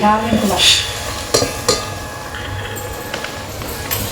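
Boti (tripe) goes into a pot for village-style gongura curry and is stirred, with metal clinks and scrapes, a soft sizzle and a few sharp knocks against the pan, close and fairly loud, with a voice at the start.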